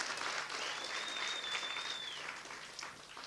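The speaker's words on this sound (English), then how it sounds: "let's give them a big round of applause and appreciation" Steady applause from an audience at a school sports indaba, a dense wash of clapping held at moderate level for a few seconds and slowly fading, with no talking over it.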